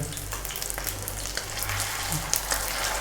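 Potato chicken kebabs sizzle and fry in a pan, a steady crackling hiss with occasional pops and light stirring or turning noises, close and continuous.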